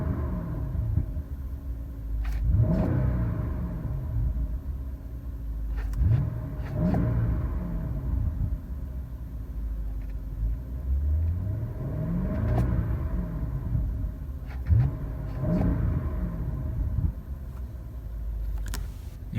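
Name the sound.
2015 BMW 650i Gran Coupe engine start-up and exhaust revving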